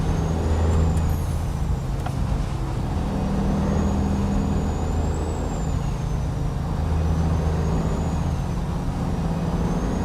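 Loud, steady diesel rumble from a truck with an N14 engine rated at 430 horsepower in American Truck Simulator, droning continuously with a faint whine rising and falling above it.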